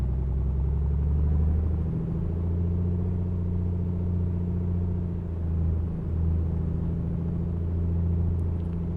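A Piper Comanche 250 engine run-up to 1700 RPM in Microsoft Flight Simulator, with a steady, loud, deep droning hum that holds constant, its pitch shifting slightly midway.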